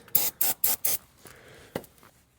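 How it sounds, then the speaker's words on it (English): Four quick, loud bursts of brake cleaner spray hissing onto the front differential of a Mercedes-Benz S550, close up, followed by quieter shop noise and a single clack. "A little bit of brake clean for good measure."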